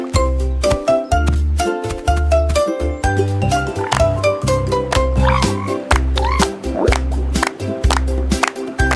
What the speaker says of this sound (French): Look at the froggy!